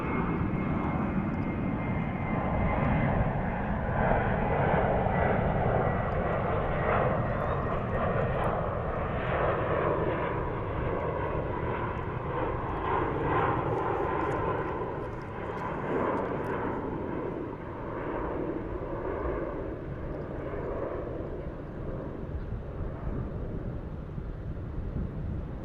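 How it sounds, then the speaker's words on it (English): A Spirit Airlines Airbus A321 jet passes at DFW airport with a loud, steady engine roar that holds for the whole stretch and eases slightly toward the end, with no talk over it. "yellow banana, A321 from Spirit Airlines"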